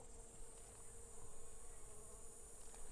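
A swarm of bees hums around a wild honeycomb as it is cut away outdoors, a dense, continuous buzzing drone that stays steady and fairly close throughout.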